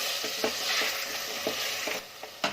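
Frozen peas sizzle steadily in a hot pan while being stirred, with soft rhythmic scrapes and taps of the spoon repeating through the constant frying hiss.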